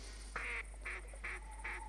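Four evenly spaced duck quacks from the hunting game theHunter: Primal, game-like and clear, sound over a constant low background hum.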